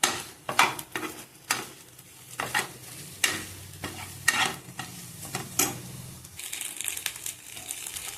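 Egg Maggi noodles are stirred around a pan, with a spoon scraping and clinking in irregular strokes against a soft crinkly sizzle, close and moderately loud, and no voices.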